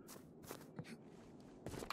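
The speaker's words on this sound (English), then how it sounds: "I hear footsteps back of the church." Soft, scattered footsteps crunch faintly in the Dread Hunger video game, a few irregular steps heard at a distance with no talking.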